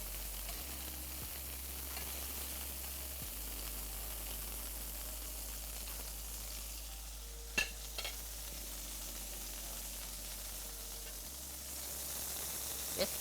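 Steak frying in a pan gives a steady, faint sizzle with occasional splatter pops, heard alone without talk.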